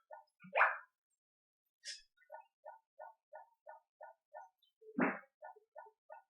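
A dog in the Harvest Moon Back to Nature farming video game barks in a quick series of short, evenly spaced synthesized yips, clean and alone against silence, with a couple of louder bursts.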